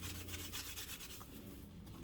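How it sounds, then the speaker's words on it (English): A small sanding sponge scrubs glitter off a Dollar Tree decoration, giving quick repeated scratchy rubbing strokes, fairly faint and close, with no one speaking. "I will take a little sanding sponge"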